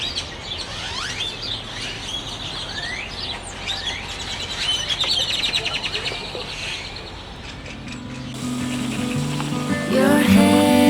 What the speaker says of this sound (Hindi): ये चिड़ियों की आवाज़ सुने आप।